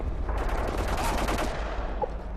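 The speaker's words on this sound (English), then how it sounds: "he shot me through the wall" Gunfire in a first-person shooter video game crackles as a rapid burst of shots, loud and close, in a short flurry, with faint talking underneath.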